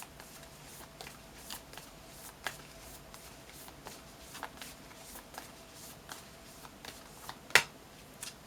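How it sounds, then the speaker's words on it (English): Oracle cards being shuffled by hand, a soft run of quick papery flicks and taps with one sharper snap near the end, close and quiet with no talking. "I feel like I really needed to shuffle those"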